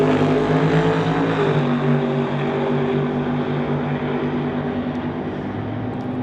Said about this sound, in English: Mark Thompson, Marvel Racing, Coldstream, got 598 cubic inch big block Chevy under the hood